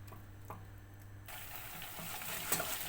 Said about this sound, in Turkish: 1 kaşık da domates salçası, 2 kaşık sıvı yağla burada kavuracağım